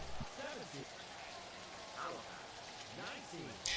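Steady rain hisses through a stadium in Maximum Football 2018, a broadband wash running the whole time under the game's background crowd and announcer-like voices.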